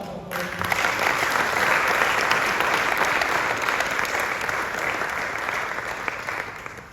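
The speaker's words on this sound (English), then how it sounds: "give yourself a round of applause" Sustained applause from a summit audience, a dense, even wash of many hands clapping that holds steady for several seconds and tails off slightly at the end, with no voices rising above it.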